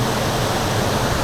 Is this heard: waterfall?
yes